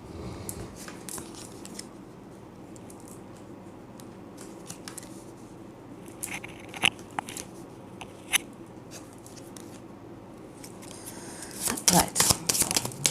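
Tarot cards being shuffled and handled at close range, giving soft riffling, sliding and tapping clicks that pick up toward the end, with a person talking quietly underneath.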